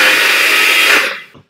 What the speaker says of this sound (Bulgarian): Слагам го на блендера.